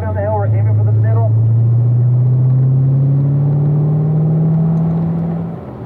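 Car accelerating on a wet race track in the rain, a steady engine drone rising slowly in pitch as power is squeezed on downhill, loud and close throughout, with a voice talking briefly over the start.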